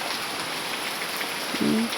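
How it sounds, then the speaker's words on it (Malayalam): Heavy rain pours steadily, a dense continuous hiss of drops on surfaces with no break, and a brief low hum near the end. "ഇവിടെ ഭയങ്കര മഴയാണ്"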